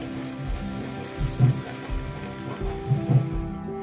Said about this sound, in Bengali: আমি নাড়াচাড়া করে আমার মশলাটা ভেজে নেব